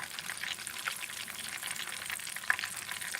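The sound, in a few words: oil popping while frying Haitian boulèt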